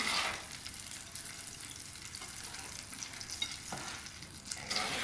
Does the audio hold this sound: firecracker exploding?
no